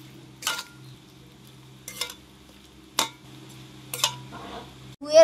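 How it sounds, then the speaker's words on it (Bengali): A spoon stirs mango pickle mixed with salt and sugar: four or five separate scraping, clinking strokes against the bowl at roughly one-second intervals, close by over a quiet hum, with no talking. "সব কিছু নেড়ে চেড়ে মিশিয়ে নেব।"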